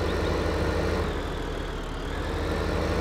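Tractor engine idling in the farming game Farming Simulator 15, a steady low rumble with even pulsing, constant and close, with no talk over it.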